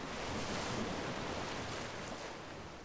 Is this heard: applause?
no